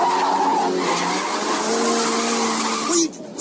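A car skids with a long, loud tyre squeal that holds steady for about three seconds before cutting off abruptly, with voices shouting beneath it.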